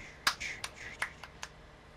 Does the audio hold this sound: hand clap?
yes